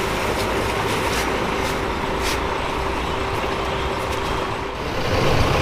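Intercity bus with a Laksana Sky XHD Prime body at a terminal in Takengon, idling with a broad steady rumble and a thin constant tone, plus a few short hissing bursts and no voices.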